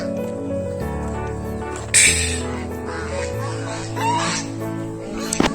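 Chickens cluck and a rooster crows nearby over a steady low hum at a poultry and duck farm in Hathazari, Chattogram, with a short sharp squawk near the end.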